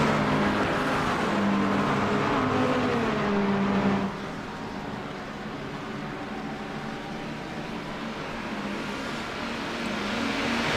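McLaren GT3 race cars in the iRacing sim at Monza give a steady engine drone that shifts pitch and drops in level partway through, with no speech.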